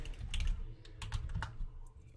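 A username and password being typed on a computer keyboard: a short, quick run of close, crisp key clicks in uneven rhythm.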